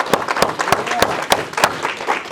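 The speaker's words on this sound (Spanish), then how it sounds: "Dale un aplauso fuerte." A church congregation breaks into loud applause, with a dense spread of hand claps and a few sharp, rhythmic strong claps standing out at roughly regular intervals, close and lively.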